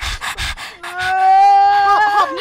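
A person's voice imitates exhausted panting: a run of quick, breathy huffs up close, then a drawn-out, whiny voiced gasp that wavers in pitch.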